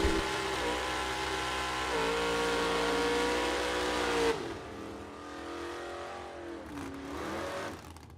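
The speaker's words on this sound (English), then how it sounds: "Wheels up launch for John Reynolds." A 1966 GTO and a 1967 Camaro launch off the line at a bracket drag race, their engines roaring loud and steady as they pull away, then the sound drops to a lower, fading drone.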